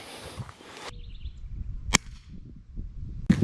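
A Gamo Varmint .177 air rifle fires once with a sharp, sudden crack amid quiet background rustling, followed by a second sharp sound near the end.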